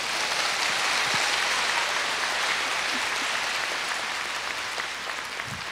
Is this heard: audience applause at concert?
yes